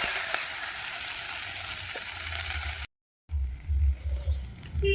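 Chopped onion dropped into hot oil with whole garam masala in a village-style home kitchen, a loud steady sizzle that cuts off briefly, then resumes with stirring scrapes and bubbling.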